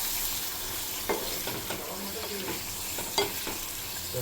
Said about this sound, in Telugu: ఇప్పుడు ఇందులోకి మనం ఫస్ట్ యాడ్ చేస్తున్నాం prawns. Okay, just mix it well.